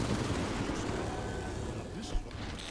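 Rapid, sustained gunfire from an Apex Legends match, dense overlapping shots rattling continuously at a steady loud level, with one sharper burst near the end.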